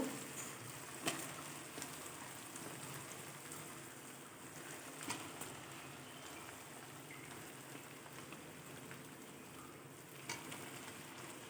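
Washed chicken pieces hit hot oil and cooked-down spice paste for a Bengali wedding-style chicken kosha, giving a steady, dense sizzle throughout with a few sharper crackles and pops, close and with no talking.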